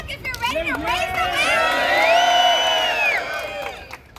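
A large crowd at a New York rally cheers and whoops loudly and without a break, with high shouted voices rising and falling over a dense roar of many people.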